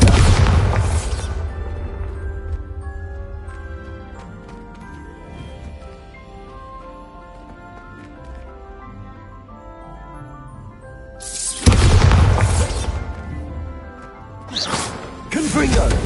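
Exploding spells Confringo and Bombarda cast in Hogwarts Legacy, loud booming blasts at the start and again near the end, separated by a quieter stretch of game music, with a player's voice calling out over the action.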